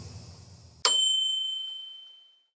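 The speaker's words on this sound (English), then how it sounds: "a small bell rang in Min's headphones" A single small bell strikes once with a bright metallic ding, then rings out and decays smoothly over about a second and a half after a faint hum cuts off.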